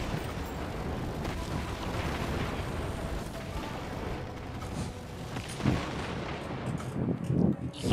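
Turrets fire during a boss fight in a video game, producing dense, continuous rumbling gunfire and booms, with sharper, louder bursts toward the end.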